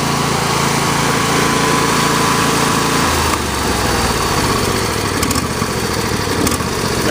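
A John Deere LA120 lawn tractor engine runs close and steady at its low speed setting. Its droning pitch shifts and wavers partway through as the engine surges, and the noise carries on without pause.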